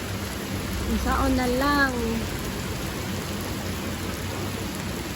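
Steady rain pours down on a yard where free-range chickens roam, a dense, even hiss that continues throughout while someone speaks briefly over it.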